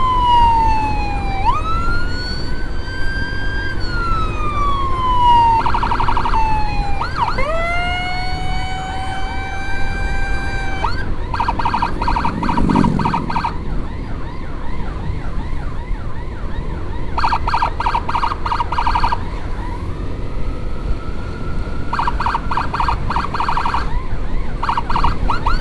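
Wailing ambulance siren during a police-escorted run, sweeping up and down in long rising and falling tones, then switching to rapid yelp bursts, loud and close throughout with steady traffic noise underneath.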